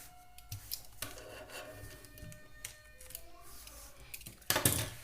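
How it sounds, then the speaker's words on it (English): A cutter knife is drawn along a ruler to slice a paper binding roll, making close, scratchy rubbing strokes in short bursts with small taps, ending in a louder scrape. "Take your cutter and your ruler, keep it like this straight and cut it."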